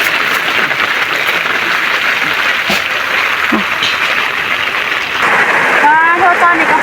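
Steady rain pours down outdoors in a dense, even hiss that holds throughout, with a voice talking over it and a brief rising tone near the end.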